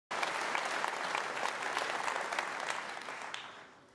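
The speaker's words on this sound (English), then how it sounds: "Literally the biggest round of applause for just being a transphobe." Sustained audience applause from a large crowd at a political event, dense and steady throughout before fading slightly toward the end.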